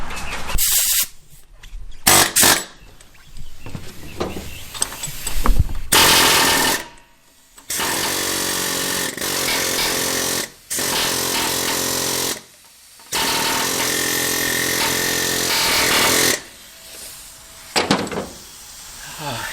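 An air compressor and air tools run in long loud bursts at a service truck being fitted with a new hitch, the steady roaring stretches broken by short pauses and rattling hits, with some talk in the gaps.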